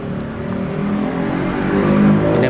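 A Honda Scoopy New automatic scooter with weak pull and a rattly engine revs steadily nearby, its mid-pitched drone swelling slightly toward the end with no talking over it.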